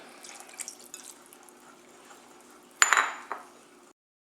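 Lemon, oil and water are added to a flour mixture for potato scallops: faint clinks and drips, then one short splashing pour near the end, with no voices.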